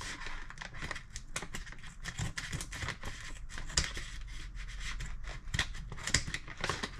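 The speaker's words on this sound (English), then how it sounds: "I'm gonna need to get some scissors." Close, repeated snipping of scissors cutting through crinkly packaging, with rustling between cuts and no talking.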